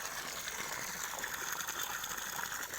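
Water gushing steadily from the 1¼-inch delivery pipe of a solar borewell pump set, with the pump hung at about 550 feet in a 700-foot bore, making a continuous close hiss with no talk.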